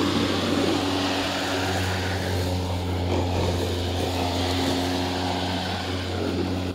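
An EGO Power+ Select Cut cordless electric self-propelled lawn mower runs its motor in a steady, loud whine with a low hum and blade rush, continuous and close throughout.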